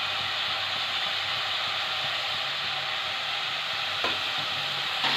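Spices for a tengra fish curry fry in a pan while being stirred, producing a continuous even sizzling hiss broken by a couple of brief utensil scrapes near the end.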